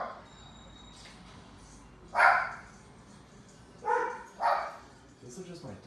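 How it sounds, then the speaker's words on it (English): Real dogs barking in a room while the LEGO Batman Wii game plays, with a few sharp separate barks and yips, fairly close over a low background hum. "These are just my dogs."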